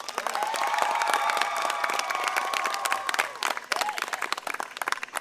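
A Founders Walk ceremony audience breaks into loud, sustained applause with scattered cheers and whoops, dense clapping holding steady before thinning out into sparser claps at the end.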